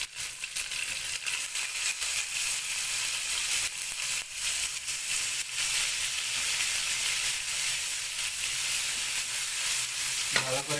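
Chicken heart and liver frying in a pan, a continuous close sizzle and hiss with occasional stirring scrapes, steady and fairly even throughout.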